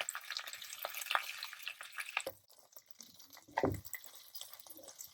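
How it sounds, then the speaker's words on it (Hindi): Okra (bhindi) tossed in a pan over high flame with popped mustard seeds, giving a steady crackling sizzle with scattered pops and a louder burst of spatter near the end. "अब हम इसमें भिंडी डाल देंगे। तो 5 मिनट इसको हम फ्राई करेंगे।"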